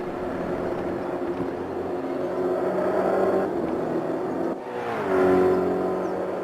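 New Aquila race cars at Monza roar past one after another, engines whining and revving up through the gears, loud and sustained with a brief dip before another car surges by.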